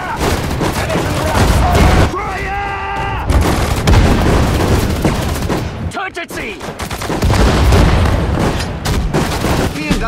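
Heavy gunfire and artillery in a Sudden Strike 4 Stalingrad battle: dense, loud volleys of rifle and machine-gun fire with booming blasts, shouted soldier voices mixed in throughout.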